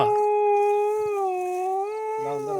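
A dog howls in a long, sustained, close-up tone that wavers slightly in pitch before tailing off.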